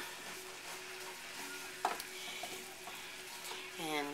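Flour being stirred into meat for biscuits and gravy in a pan on the stove, a steady scraping stir over a soft sizzle with one sharp knock of the utensil against the pan.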